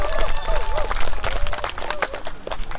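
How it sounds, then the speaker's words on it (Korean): Crowd applause at the opening ceremony of the 2024 Nogeun-ri garden festival, steady dense clapping throughout with a voice over it. "박수가 좀 작습니다. 한 번 더 박수!"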